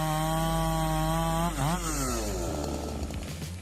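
A chainsaw works through a towering oak tree, its engine note holding steady, then bending and dropping as the blade bites into the wood, loud and close with no talk.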